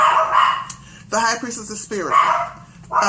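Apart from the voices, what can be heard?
dogs barking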